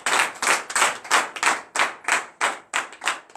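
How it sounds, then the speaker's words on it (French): A congregation at a morning prayer service in Benin claps in acclamation: about nine loud, even, rhythmic claps in a steady beat, close by, with no talking. "Donnez l'acclamation."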